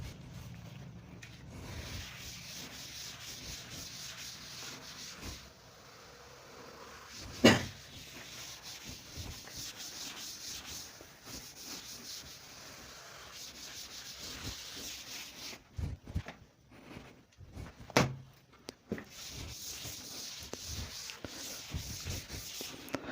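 Writing is rubbed off a board with steady, close back-and-forth scrubbing, a continuous soft friction sound broken by a couple of louder knocks.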